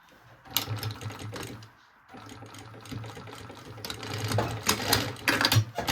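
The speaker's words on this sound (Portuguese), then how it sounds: "só vou fazer uma costurinha aqui" A sewing machine stitches backpack material in quick bursts of rapid mechanical chatter, pausing briefly around the two-second mark before resuming louder and close.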